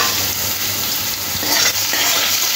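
Half-boiled potatoes fry in a pan and are stirred around, a dense continuous sizzle with soft scraping of the spatula against the metal, close up and steady throughout.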